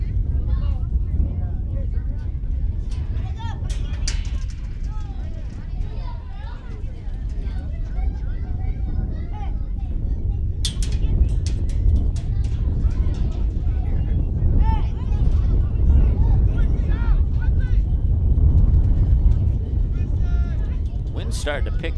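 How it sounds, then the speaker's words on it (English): Wind gusts buffet the microphone at an outdoor amateur football game, a heavy low rumble that swells and surges throughout while a commentator keeps talking over it. "We've had a couple wind gusts like the one that you're hearing right now"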